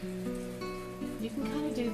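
Rain falls steadily outside as a soft, continuous patter in the background, with a humming tonal sound layered over it.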